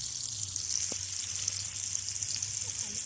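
Wild mushrooms fry in plenty of butter on a twig stove outdoors, making a bright, constant hiss with one faint knock partway through.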